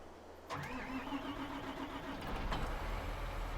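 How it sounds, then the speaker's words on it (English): Big 7R tractor engine in the video game Farming Simulator 22 cranking and catching, then settling into a steady mid-pitched idle hum that swells slightly toward the end, heard up close. "we're going to get into the big tractor here,"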